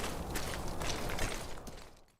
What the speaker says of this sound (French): Le craquement des cailloux,